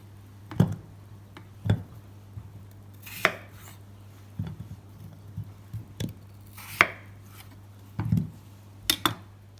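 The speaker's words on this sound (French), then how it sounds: "nos pommes de terre, que je vais juste couper en deux." A knife cuts potatoes in half on a board, with sharp thuds spaced about a second apart, close and distinct over a low steady hum.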